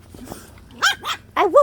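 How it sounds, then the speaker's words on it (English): Puppies playing outdoors bark in short, close yaps: one faint early yip, then two quick pairs of sharp, loud barks in rapid succession. "Woof, woof."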